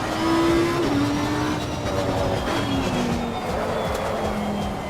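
Race car in the Assetto Corsa Competizione racing video game, engine droning steadily with a gliding pitch while the tires faintly scrub through a corner, heard alone at moderate volume.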